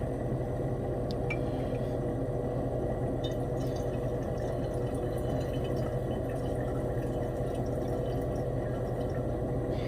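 Distilled water rinsing placer gold during refining, a faint continuous liquid trickle and sloshing with small drips, steady and close throughout.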